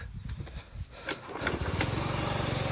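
A fuel-injected Yamaha Jog SA57 scooter engine revs up and settles into a steady, buzzing run close by, with a rapid puttering pulse underneath.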